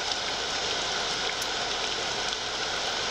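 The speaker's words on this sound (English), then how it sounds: "It's raining." Steady rain patters down, a soft, even hiss of drops with no other sounds.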